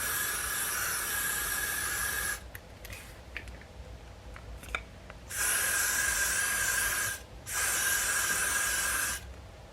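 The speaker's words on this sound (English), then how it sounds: "take some Got To Be freeze spray and spray it all around the perimeter of your hairline." Got To Be freeze spray hisses from an aerosol can around a hairline in long, steady bursts, loud and close, with a short pause and a brief gap between sprays and quiet rustling in between.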